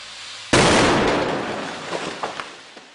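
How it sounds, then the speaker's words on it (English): A single loud stunt explosion bursts suddenly near the start on the Coronation Street television drama set, then rumbles and decays with scattered crackles and small pops trailing off. "I don't know how severe this explosion's going to be."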